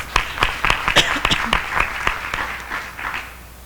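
Audience applause for a school principal at an accountability results event in North Carolina: a fairly light, uneven patter of claps with a few sharp individual hits, fading toward the end.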